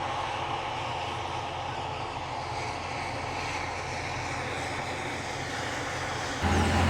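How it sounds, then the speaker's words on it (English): A machine's engine roars steadily and loudly as it draws closer, growing slightly louder at the very end. "See the engine roaring a bit now as it comes closer."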